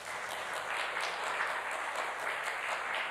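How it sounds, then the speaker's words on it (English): A crowd applauds steadily, a dense wash of clapping hands at moderate volume with no voices. "can we please give a round of applause"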